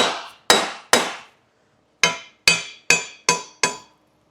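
A hammer strikes a steel square clamped down for welding, eight sharp ringing metallic blows in two groups with a brief pause between them, each hit clear and decaying quickly, no voices.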